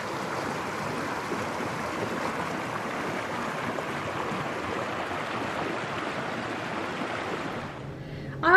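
Woodland creek running high after heavy rain, a continuous even rush of water, close and steady throughout with no talk.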